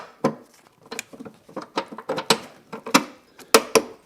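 A ratchet clicks in short, uneven bursts while tightening the strap on a car battery terminal, likely on a Chevy Colorado. The sound is close and fairly quiet, with no voices.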